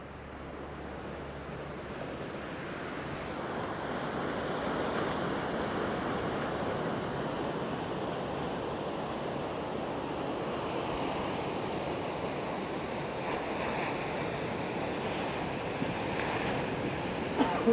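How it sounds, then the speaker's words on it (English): Ocean surf with a steady swell rolling in along the Montecito, California coast, breaking waves forming a continuous wash of white water under light wind rumble, with no talking. "Got ourselves a nice little swell running."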